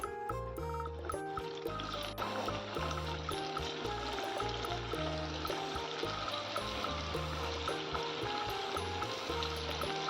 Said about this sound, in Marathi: हे बघा आपलं तेल छान तापलंय त्यात आपण टाकूया आपले बोंड किंवा गुलगुले